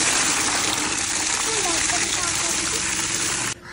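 Tap water gushes and splashes loudly and continuously while a pet turtle is bathed, a dense steady rush close by that cuts off abruptly near the end.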